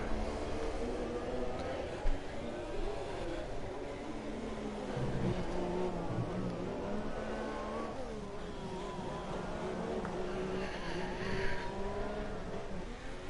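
An F1 race car lapping Circuit de Barcelona-Catalunya in the wet in a racing video game: a sustained engine whine rising and falling through gear changes, with commentary talk over it.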